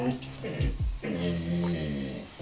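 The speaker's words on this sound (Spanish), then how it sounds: "Va a ladrar un perro." A dog whimpers and yips briefly, with short growly cries over a steady background hum, and a faint voice can be heard.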